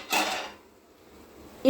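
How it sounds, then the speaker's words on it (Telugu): A lid comes off a pot of prawns cooking on a stove: a short metallic scrape and rattle near the start, then a quiet pause, then one sharp clink close by. "మూత తీయాలి."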